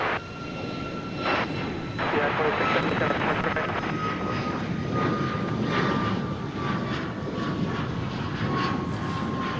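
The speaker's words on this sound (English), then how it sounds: "This Cessna Super Cargo Master 1988." A 1988 Cessna Super Cargomaster at DFW Airport drones with a steady propeller engine roar, loud and fairly close, with a faint voice talking underneath.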